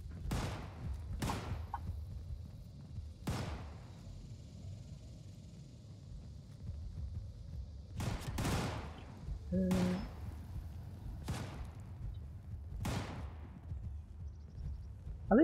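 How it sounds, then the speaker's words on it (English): Scattered distant gunshots in the online game Fallout 76, about eight sharp cracks at irregular intervals over a low ambient rumble, each fairly faint with a short decaying tail. "Wait, where are those shots coming from?"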